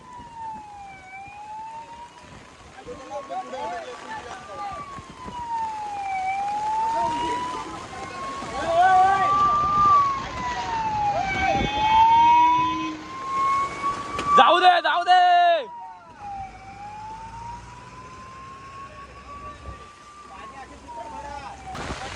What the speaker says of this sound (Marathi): दोन दोन गाड्या म्हणजे काहीतरी असेल काहीतरी इमर्जन्सी असेल म्हणून दोन दोन गाड्या फिरतायत